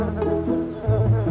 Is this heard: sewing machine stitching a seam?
no